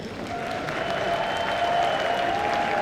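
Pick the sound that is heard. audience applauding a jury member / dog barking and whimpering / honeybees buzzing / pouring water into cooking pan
audience applauding a jury member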